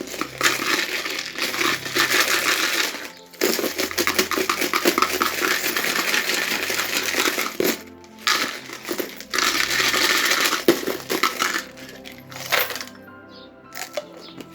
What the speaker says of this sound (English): So I'm going to mix this up now before I cast them, and this bit can get quite noisy